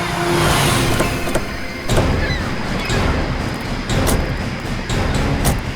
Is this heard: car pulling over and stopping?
yes